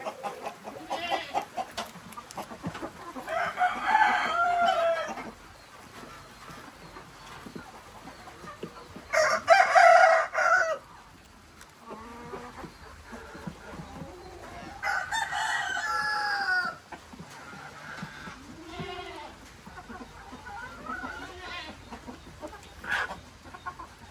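Chickens cluck steadily in a farm pen while a rooster crows loudly in three separate bursts, close by and with no talking.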